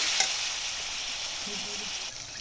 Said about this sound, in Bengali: একসাথে এগুলোকে আমি ভালো করে ভেজে নেব।